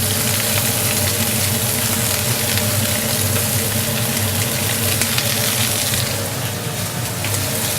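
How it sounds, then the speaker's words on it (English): Quartered rabbit pieces pan frying for a stew, a loud continuous sizzle and roar of hot fat that holds steady throughout with a low rumbling undertone. "Now what I've done, that I've quartered the rabbit, we're just going to pan fry these off."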